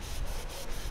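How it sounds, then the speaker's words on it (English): A paper towel wipes wood stain off an axe with a steady, close, dry rubbing, pulsing in short back-and-forth strokes and heard alone. "Kind of wipe it off a little bit here,"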